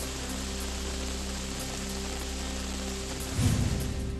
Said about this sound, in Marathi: जळगाव शहरासह जिल्ह्याच्या अनेक भागात दुपारपासून पावसाचा जोर वाढला